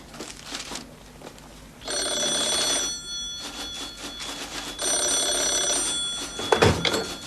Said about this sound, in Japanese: 電話ですよ